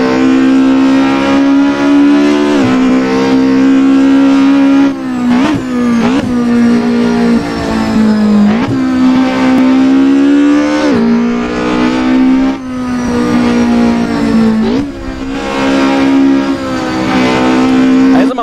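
A 16-valve Opel Kadett C engine in the Assetto Corsa racing game, revving loud and continuous, pitch climbing and dropping with each gear change.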